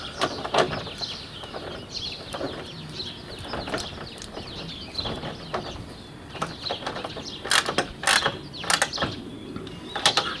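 A ratchet tightens a side step onto its bracket on a Vauxhall Vivaro, giving bursts of quick clicking and metallic rattles that come and go irregularly, with a few sharp clanks near the end and quiet between bursts.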